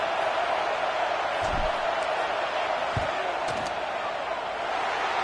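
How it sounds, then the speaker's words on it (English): A college football stadium crowd roars continuously at a Pitt versus LSU game during a field goal attempt, with a dense, loud wash of noise and a few thuds within it. "This crowd trying to do its part to get inside the kicker's head."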